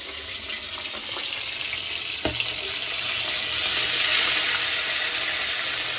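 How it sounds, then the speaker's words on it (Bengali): Fish rinsed over and over in plain water in a home kitchen, giving a steady close-up wash of splashing, running water that continues without pause, with a brief sharp knock partway through and no voices. "এখন আবার মানে খালি জলেই বারবার ধুচ্ছি আর তুলছি"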